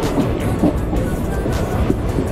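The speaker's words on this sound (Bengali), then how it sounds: "বেলডাঙ্গা স্টেশন ছেড়ে ট্রেন রওনা দিচ্ছে বহরমপুরের দিকে" A Sealdah–Lalgola passenger train pulls out of Beldanga station bound for Berhampore, producing a loud, continuous low rumble of wheels and carriages with no voices.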